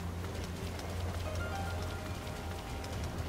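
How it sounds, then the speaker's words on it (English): Steady patter of rain falling in the video game Sonic Frontiers, a continuous soft hiss with scattered drop taps over a low rumbling background, no talking. "Oh, raining, okay."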